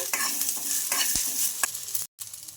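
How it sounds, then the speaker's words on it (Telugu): Peanuts and mint leaves frying in a pan with a steady crackling sizzle, broken by stirring scrapes and clatters and one brief pause near the end; close and moderately loud, with no talk. "ఈ పుదీనాను కూడా బాగా ఫ్రై చేసుకోవాలి."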